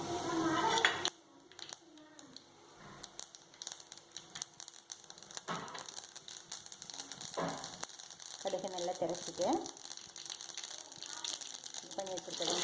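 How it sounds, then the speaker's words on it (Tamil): Mustard seeds and urad dal crackling and popping in hot oil, a dense patter of small sharp pops throughout, with a voice briefly at the start. "கடுகு உளுத்தம் பருப்பு போட்டுட்டோம்."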